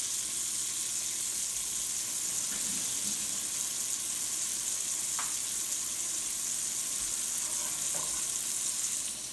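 A burger fries in a pan with a steady, soft sizzle, a continuous hiss at moderate distance with a few faint clicks, and no one speaking.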